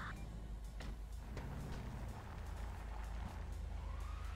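Faint police sirens in a video game, a distant wailing tone that rises near the end over a low, steady rumble of game noise.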